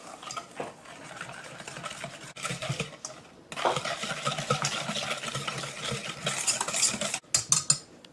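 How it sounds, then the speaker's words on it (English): A wire whisk beats a vinegar and milk dressing in a bowl for potato salad, giving close, rapid scraping and light clinking that runs steadily with brief pauses. "And now we will whisk this together."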